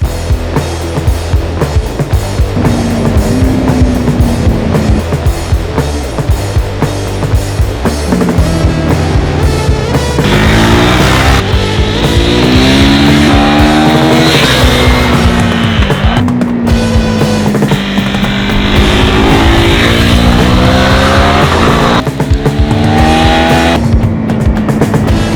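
A KTM 390 Adventure X motorcycle under way, its engine loud and close, rising and falling through the revs with gear changes and steady wind roar throughout.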